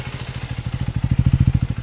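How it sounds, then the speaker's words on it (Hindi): A Triumph Speed 400 motorcycle engine idles close by at a service centre, its steady low thumping pulses growing slightly louder and stronger partway through, with no talking. "अब इसकी आवाज़ सुनो, तो आपको कहीं से भी ऐसा नहीं लगेगा कि इंजन के अंदर कोई नॉकिंग साउंड या कुछ है।"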